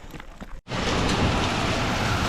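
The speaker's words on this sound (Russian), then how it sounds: "Я не знаю, будет ли слышно, но у нас просто идет град." Large, cube-like hailstones pour down outdoors after a brief lull. The dense, steady roar of the impacts is loud and close, and no one speaks over it.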